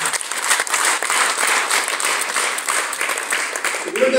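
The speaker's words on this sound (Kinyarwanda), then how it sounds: "Twiha amashyi kubera ko twabyibohoye." A crowd at a village-level Liberation Day gathering applauds, with dense, loud, sustained clapping close by from start to finish.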